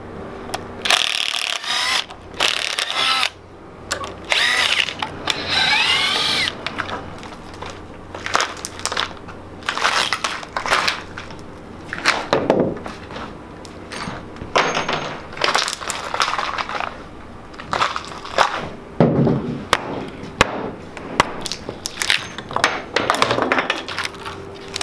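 Cured resin pieces popping out of flexible molds, a run of sharp cracks, snaps and crinkling rubbery peeling in irregular bursts up close, with no talking.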